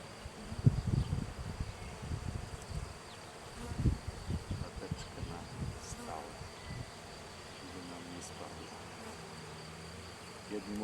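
Honey bees drone and buzz around an open hive while a new queen is introduced, a steady low hum with louder close passes early on, no talking.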